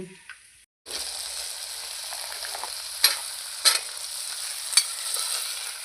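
Potatoes sizzle and fry in a kadhai, a steady loud hiss with a few sharper crackling bursts, starting after a brief pause as the potatoes go into the hot oil.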